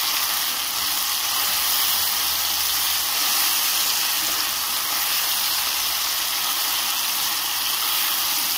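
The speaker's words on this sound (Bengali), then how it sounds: "এবার আমি এগুলিকে ভালো করে ভেজে নেব, হালকা ভেজে নেব" Chopped ingredients seasoned with half a spoon of turmeric fry lightly in a pan for making a sour chalta (elephant apple) dish, giving a steady, close, even sizzle throughout with no talking.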